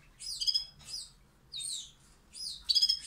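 A very small bird chirps in bright, clear calls, about five short bursts spaced across a few seconds with quiet gaps, close and fairly loud over a faint low background hum.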